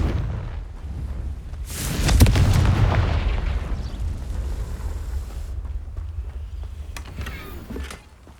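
Confringo blasting spell in the video game Hogwarts Legacy: one loud close blast with a sharp crack, then a long rumbling, crackling decay over a low background drone. No one speaks.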